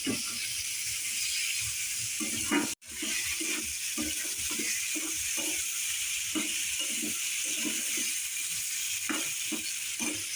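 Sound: dried fish cooking in mustard oil with chili and garlic

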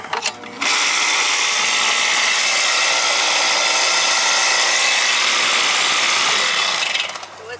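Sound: Carrier air conditioner compressor struggling to start

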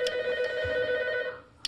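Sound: telephone ringing

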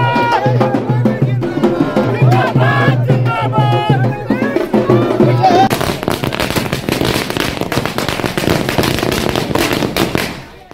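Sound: fireworks at party workers' celebration

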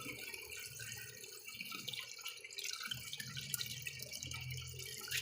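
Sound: water dripping through a sand filter

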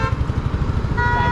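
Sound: KTM Duke 250 motorcycle engine

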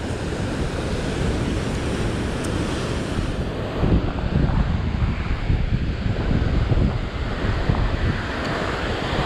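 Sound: sea waves breaking on a rocky shore while fishing

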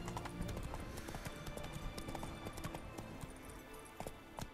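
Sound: horse hooves galloping in the video game The Witcher 3

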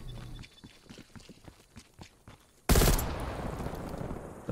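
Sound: gunfire in Call of Duty Cold War video game

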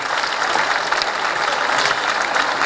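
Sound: audience applause at a police band concert

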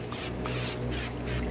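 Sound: spraying canola oil from a can

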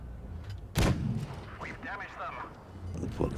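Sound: tank cannon shot, from the video game World of Tanks Blitz

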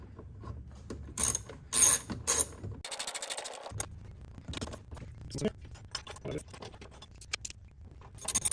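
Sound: ratchet tightening spark plugs on a Tacoma

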